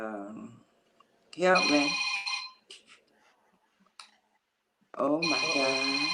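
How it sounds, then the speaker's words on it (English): A phone rings in repeated electronic bursts, one early and another near the end, with people talking around and between the rings. "That's my phone."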